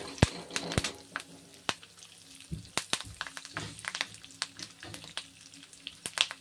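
Fresh curry leaves cut from a home tree hit hot oil, giving scattered sharp crackles and pops over a low steady sizzle, fairly close and with no talking.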